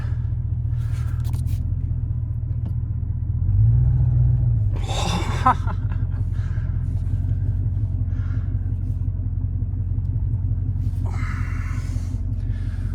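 An old car pulled from a barn, its engine rumbling low and steady as it's shifted into drive, with a brief louder surge and a couple of sharp scraping bursts over the constant drone.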